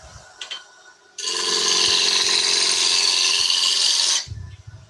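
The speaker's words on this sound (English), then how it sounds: "I'm just going to move the tool rest in just a little bit and then start the lathe up again." A woodturning lathe spins up abruptly and runs with a steady, loud high-pitched whine for about three seconds before it cuts off. Faint handling noises come before and after.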